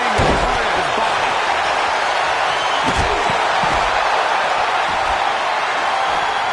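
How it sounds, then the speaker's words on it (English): Wrestler stomping on a downed opponent in WWE 2K24, several heavy slamming thuds at uneven intervals over a steady roar of arena crowd noise, with commentary voices talking throughout. "Just stomping every single part of his body."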